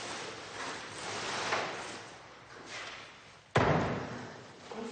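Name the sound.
door being closed at an animal shelter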